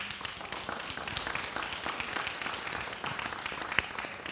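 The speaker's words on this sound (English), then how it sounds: "please give my team another round of applause for them" A live-stream event audience claps for a wellness and therapy team, a steady dense patter of many hands at moderate distance with no voices over it.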